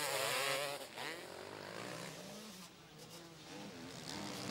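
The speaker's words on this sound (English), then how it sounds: "Here is the Motorex Kawasaki of McFarlane trying to prove otherwise" A Kawasaki 250cc two-stroke motocross bike races at a Grand Prix event in Sevlievo, Bulgaria, its engine revving and shifting pitch at a moderate distance over faint crowd and track ambience.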